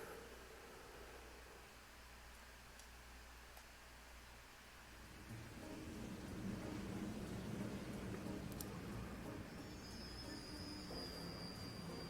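Magic-powered train in the Trails of Cold Steel video game, a steady low rumble and rolling wheel noise that swells louder midway and carries on continuously at moderate level, with faint high squeals toward the end and no voices.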